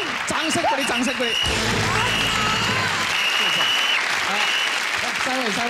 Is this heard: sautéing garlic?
no